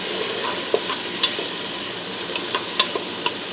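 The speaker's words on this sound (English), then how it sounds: "Give that a quick stir." Chopped green pepper stirred in a Ninja Foodi: a soft continuous sizzle with a few light scraping clicks from the utensil, close and alone.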